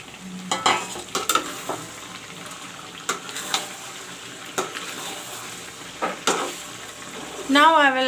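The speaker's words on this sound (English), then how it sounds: "marinated chicken with the masala is fried up well" Marinated chicken with masala sizzles and fries in a pan with intermittent stirring clatters, fairly close, no talking.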